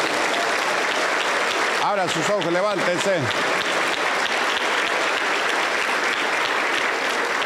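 A church congregation claps during a fervent healing service, dense steady applause throughout while a preacher shouts briefly over it.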